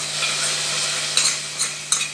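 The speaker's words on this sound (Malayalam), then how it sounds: "ഇത് നമുക്ക് കറിയിലേക്ക് ഒഴിക്കാം." Browned fried onions and shallots poured into a roasted-coconut mushroom curry, giving a close, steady sizzle with a few soft stirring clinks, no talking.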